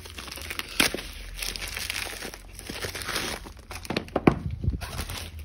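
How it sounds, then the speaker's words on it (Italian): Crinkling plastic bag from a Redmi 9 phone box being handled and torn open, with scattered rustles and a couple of sharper crunches, close by and fairly loud, no talking. "passiamo apriamo il sacchetto e successivamente la scatola"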